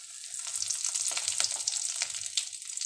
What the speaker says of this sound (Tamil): எண்ணெய் சூடானதும் உளுந்து சேர்த்துக்கலாம்.